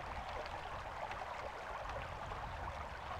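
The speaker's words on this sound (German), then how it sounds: "Ich höre das Wasser plätschern." Water splashes and trickles in the fantasy role-playing game Might & Magic X Legacy, a soft, continuous burbling stream heard faintly and alone.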